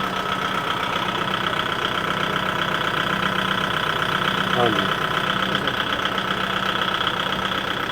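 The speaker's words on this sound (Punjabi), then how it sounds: "ਆਵਾਜ਼ ਪੱਖੋਂ ਵੀ ਦੇਖਿਓ ਟਰੈਕਟਰ ਬਿਲਕੁਲ ਸਾਇਲੈਂਟ ਆ" A steady Kubota tractor engine idles throughout, a low continuous drone with a faint rhythmic knock, close and unchanging.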